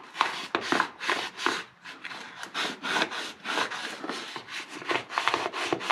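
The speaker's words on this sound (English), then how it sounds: "I'm going to hit it one more time with the sandpaper." Sandpaper rubbing by hand on a copper-colored part of a 1973 Yamaha AT3 motorcycle, a close, steady series of rasping back-and-forth strokes in quick rhythm with no talking.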